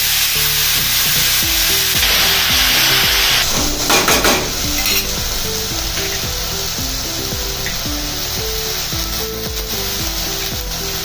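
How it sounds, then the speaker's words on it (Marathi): Fenugreek leaves hit hot oil with garlic and green chillies, giving a loud, steady sizzle with scraping stirs throughout and a brief burst of crackling near the middle. "आता यात मी मेथीची भाजी सोडते."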